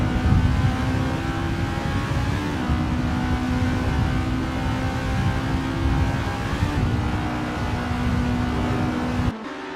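Formula racing cars at the Vallelunga circuit, a steady loud engine roar with tonal whine throughout as cars run close in slipstream, cutting off abruptly near the end.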